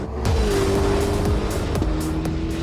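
A 2025 Chevrolet Corvette ZR1 accelerates hard through the gears, its engine note climbing in pitch, dropping at a shift and climbing again. The sound is loud and continuous, with brief tire squeal and no voices.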